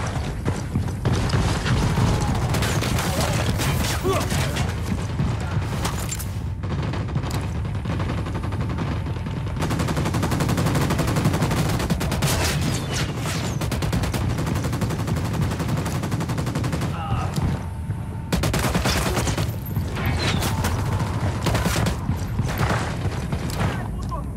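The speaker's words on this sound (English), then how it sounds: "Opening fire." Gunfire in the video game Ghost Recon Wildlands comes as loud, dense bursts of automatic shots, with mechanical clatter and ratcheting between volleys, and a voice occasionally cuts in.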